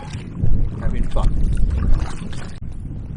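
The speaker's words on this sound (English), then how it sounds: "the wind's just absolutely constant now" Steady wind roars across the microphone while kayaking on a lake, a constant buffeting rush with water lapping against the boat underneath, loud and close throughout.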